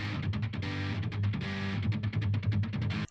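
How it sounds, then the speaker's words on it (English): A thumping djent guitar riff played through an octaver, guitars only: heavy distorted chugs in a fast stuttering rhythm with choppy palm-muted hits, loud and close. "So this is what the thumping riff sounds like, just the guitars."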